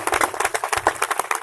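An audience claps steadily at a church gathering, a brisk run of many hands beating in a fairly even rhythm, close and lively throughout.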